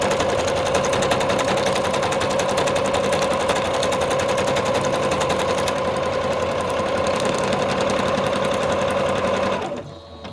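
A sewing machine runs continuously on a zigzag stitch while piecing a fabric collage, giving a fast, even mechanical whirring hum that holds steady and close for about ten seconds before stopping.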